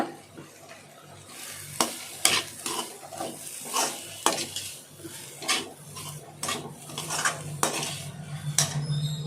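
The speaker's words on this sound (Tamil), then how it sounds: "ஒரு லைட்டாக ஒரு வதக்கு வதக்கி மூடிடணும்" Beetroot stir-fry with grated coconut being stirred in a pan: repeated metal scrapes and clinks of a spoon against the pan, with a soft sizzle running underneath throughout.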